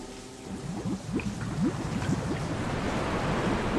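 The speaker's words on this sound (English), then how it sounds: "that will drain the pool" Water rushing and churning as a fountain pool drains in Resident Evil 3, a steady broadband wash with low gurgling pulses, fairly loud and continuous without voices.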